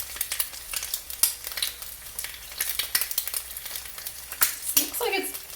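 Eggs frying in a pan, giving a steady, close crackling sizzle with dense pops and spits throughout, a few louder snaps standing out near the end.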